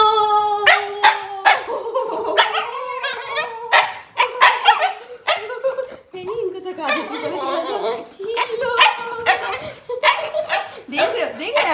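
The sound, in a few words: dog barking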